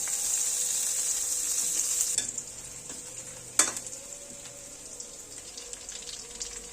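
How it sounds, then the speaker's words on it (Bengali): Onions and green chillies fry in oil, a bright hissing sizzle that drops abruptly to a quieter crackle, broken by a sharp clack of a utensil. "এখন আমরা তেল দিয়ে পেঁয়াজ আর কাঁচা মরিচটা ভেজে নেব"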